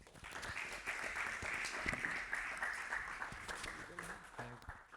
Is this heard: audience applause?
yes